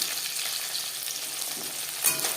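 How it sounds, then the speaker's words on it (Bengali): Bata fish frying in oil in a hot pan, a steady close, loud sizzle running throughout with a brief flare of crackle near the end. "একটা সাইড ভাজা হয়ে গেলে অপর সাইডটা উল্টে দেবো"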